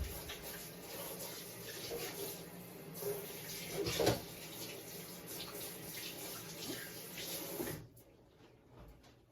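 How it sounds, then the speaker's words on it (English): Hands are washed with soap and water at a tap in a home kitchen, a soft continuous running-water wash with scattered splashes and clatter that stops abruptly near the end, with no talking. "Now I'm gonna go wash my hands because we're gonna be handling food. So I'm gonna wash with soap"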